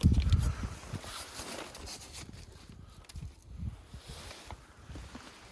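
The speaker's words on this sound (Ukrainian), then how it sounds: "Мені не дуже подобається, що у нас дує вітер." Gusty January wind buffets and rumbles at the microphone outdoors by beehives, with rustling and faint movement noises, no voices.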